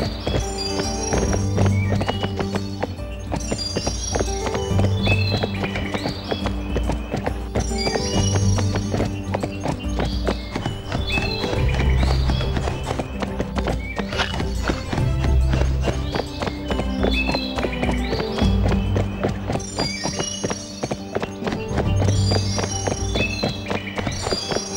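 Horse hooves clip-clopping in Barbie Horse Adventures: Wild Horse Rescue on PS2, a steady rhythmic trot repeating under continuous game music throughout.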